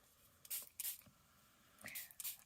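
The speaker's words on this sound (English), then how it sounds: "Make sure you get like this and squirt and spritz your flowers" Spritzer spray bottle misting paper flowers for a card kit, with about four short hissing spritzes in two close pairs, fairly quiet and near.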